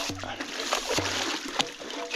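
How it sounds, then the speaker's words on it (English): A hand dredge works in a creek while gold prospecting in Australia, giving splashing and sloshing water close by, with a few sharper splashes over a continuous wet wash. "you can really get some good takes if you're able to use a hand dredge like this"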